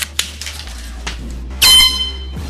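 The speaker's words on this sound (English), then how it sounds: "That is what I like to call the second air horn that listeners have sent me." An air horn blasts loudly and abruptly in a small room, holding a harsh, piercing tone for under a second before cutting off, preceded by a few thumps and rustles from a desk.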